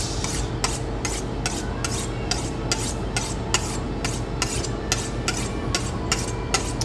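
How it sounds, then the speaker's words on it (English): A kitchen knife is sharpened in a restaurant prep kitchen, giving steady repeated rasping strokes of steel on blade in an even rhythm, close and loud throughout. "Gotta sharpen it after a couple chops."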